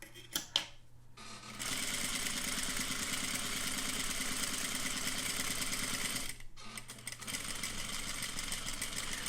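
An overlock sewing machine runs steadily as it stitches a 1/2-inch seam with closed topstitching through fabric, a loud continuous mechanical whir after a few short clicks, pausing briefly near the end before starting again.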